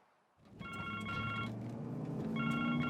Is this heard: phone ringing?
yes